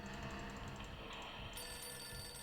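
An electronic telephone rings in the Nancy Drew video game, a faint, rapid trilling ring pattern repeating over a low background hum with no voices.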